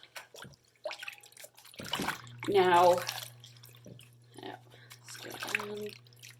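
A beeswax food wrap rinsed in a basin of plain hot water, soft splashing and sloshing with a few drips and a louder swish in the middle, heard under a person talking briefly.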